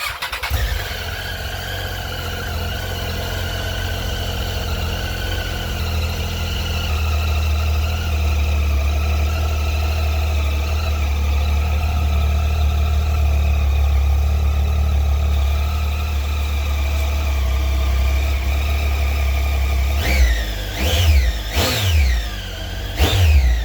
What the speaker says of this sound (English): I'll let you guys hear the stock exhaust sound right now.